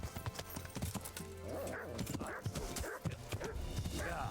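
Rhythmic horse hooves clopping and galloping in the game Kingdom Come: Deliverance, with scattered clacks and a low steady hum beneath.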